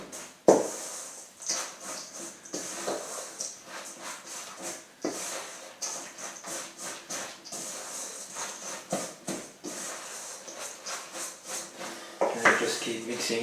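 A spoon mixing hot apples with a spice mix in a bowl, repeated soft scraping and knocking strokes in an uneven rhythm, fairly close with occasional louder clinks.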